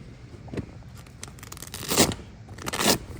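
Velcro strips tear apart on the soft top of a restored 1994 Land Rover Defender 110 V8 convertible: a short rip, then two louder, drawn-out ripping tears close to the microphone.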